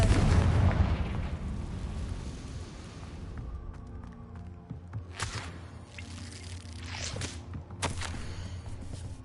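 A Confringo fire blast spell in Hogwarts Legacy bursts with a loud, booming explosive roar at the start, followed by several sharper crackling blasts and impacts.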